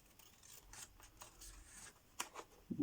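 Scissors snip through paper for a straw-spined album craft: a series of short, quiet cuts and rustles, close up, ending with a few sharper snips and a light clatter, no talking.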